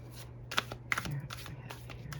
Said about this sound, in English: let's pull out some tarot. This one's kind of hard for me to shuffle.